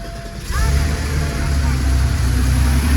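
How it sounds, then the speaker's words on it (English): A 1991 Porsche 911 Turbo (964) with 61,000 miles, started dead cold: the engine catches about half a second in, then settles into a loud, steady, deep idle rumble that carries on alone. "Car turns right on."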